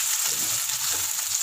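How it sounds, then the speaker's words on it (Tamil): Sliced onions sizzling in hot oil for Burmese atho, a steady crackling fry close by, moderately loud and continuous with no voices. "உள்ளே சேர்த்து இது பொன்னிறம் ஆகிற வரைக்கும் நல்லா ஃப்ரை பண்ணிடலாம்."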